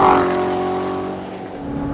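Chevrolet Corvette Z06 with its adjustable exhaust set to track mode, a loud, steady engine drone with strong harmonic tones that holds up close for about two seconds and eases only slightly.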